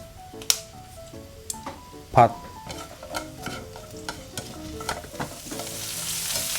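Ingredients for a Japanese chicken rice bowl are stir-fried in a pan, with a steady sizzle broken by repeated scraping and clacking strokes of a utensil. A voice talks over the cooking.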